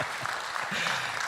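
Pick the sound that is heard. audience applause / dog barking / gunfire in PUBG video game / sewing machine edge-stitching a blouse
audience applause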